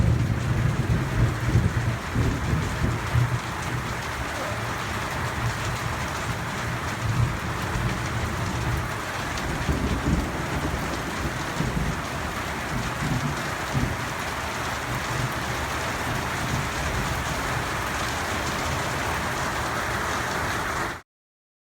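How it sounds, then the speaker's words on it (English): Heavy rain pours steadily in a nighttime thunderstorm while camping on a hiking trail, a dense close roar with low thunder rumbling underneath, continuous until it cuts off abruptly. "At 12 AM that night, a storm came through."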